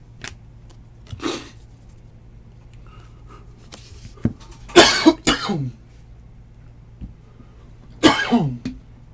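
Several sharp coughs in separate bursts against a quiet background, with a couple of harsher fits of coughing near the middle and end.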